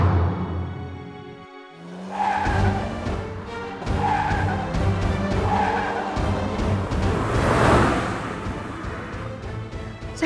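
A car speeding away with tires skidding and squealing, a sharp screech followed by a sustained, loud engine roar and repeated wavering tire squeals, close and dominant with no voices.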